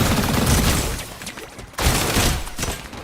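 Sniper fire in the shooter game Strinova: loud gunshot bursts at the start, a short lull, then another sharp shot with rumbling echoes.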